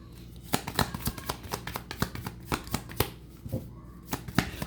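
Tarot cards are shuffled and drawn by hand in a series of crisp, rapid riffling snaps and slaps, close and fairly quiet, with irregular bursts and no talking.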